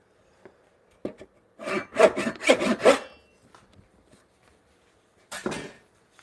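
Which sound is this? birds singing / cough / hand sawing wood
hand sawing wood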